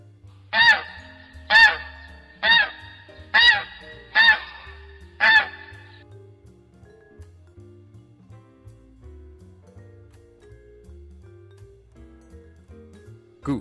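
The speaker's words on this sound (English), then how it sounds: "Goose." A goose honks six times in a steady rhythm, loud and close, followed by soft music.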